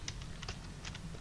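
Quick, light keystrokes on a computer keyboard, a handful of soft clicks in a short burst over low background hum, with no one talking.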